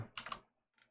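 Brief, quiet keystrokes on a computer keyboard, a short cluster of clicks followed by one more tap after a pause, close and without speech.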